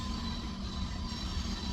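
A train rolls along rickety tracks, a steady, continuous rumble with a low hum and broad rattling noise that holds evenly throughout without any talk.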